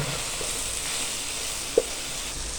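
Spices fry in a pan for aloo baingan. A steady, even sizzle holds close and fairly loud throughout, with one brief tap partway through and no voices.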